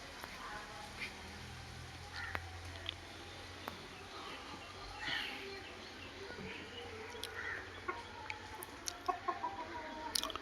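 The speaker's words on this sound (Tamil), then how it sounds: "இது குஷ்பு கோழி உங்களுக்கு தெரியும்" Chickens cluck softly outdoors, with scattered sharp clucks and calls over a quiet, low background hum.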